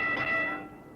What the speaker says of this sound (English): There's the warning bell